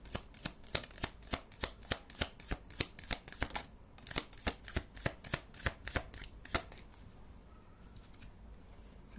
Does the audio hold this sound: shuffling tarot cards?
yes